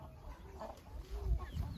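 A hen sitting on eggs on an aseel poultry farm gives soft, intermittent clucks with low throaty grunts, fairly faint against quiet background noise.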